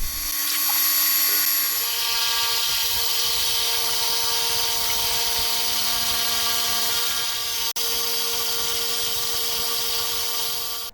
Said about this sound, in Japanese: では上の面をどんどん削っていきます